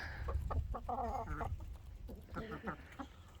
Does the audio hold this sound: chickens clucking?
yes